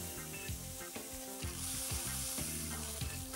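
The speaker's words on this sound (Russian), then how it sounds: "сначала жарим шкуркой вниз, посмотрите" Loud, steady sizzling of fish frying skin-side down in a hot pan, with occasional clinks and scrapes of a utensil.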